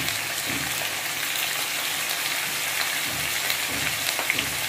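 Papaya and potato with turmeric and salt fry in a pan, a steady, dense close-up sizzle that hisses continuously without pause.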